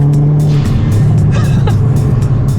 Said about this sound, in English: Got the exhaust, got the turbo noise, checks all the boxes.